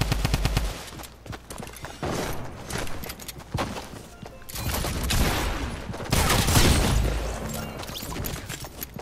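Rapid gunfire bursts in the video game Fortnite: repeated volleys and automatic fire crackle loudly through most of the stretch, with heavier booming bursts near the middle and end and no talk over them.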